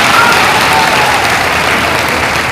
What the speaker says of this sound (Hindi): तालियां बजाकर स्वागत कीजिए।